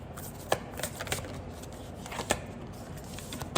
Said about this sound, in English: I don't know what kind of freaking shuffling this is